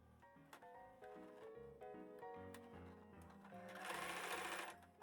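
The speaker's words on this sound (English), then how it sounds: "I assembly line serge the raw edges finished" A serger overlock machine runs in rapid stitching bursts while finishing raw fabric edges on a refashioned thrift dress, a close whirring hum that rises in pitch and grows louder toward the end.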